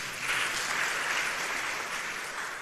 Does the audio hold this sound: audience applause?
yes